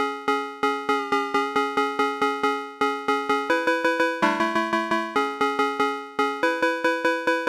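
A bright synthesized phonk cowbell plays a rapid rhythmic pattern of short metallic hits, shifting pitch across notes, loud and alone.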